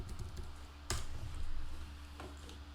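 Typing on a computer keyboard, soft quick key clicks at low level with a couple of slightly louder taps, alone without talk.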